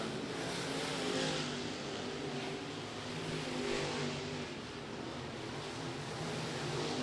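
Race cars of the American All-Star Series running hot laps at Lake Cumberland Speedway, a dirt track, with a steady, dense engine roar heard from a distance, rising and falling slightly as the cars circle.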